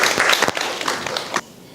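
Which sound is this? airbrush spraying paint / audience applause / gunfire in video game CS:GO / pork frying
audience applause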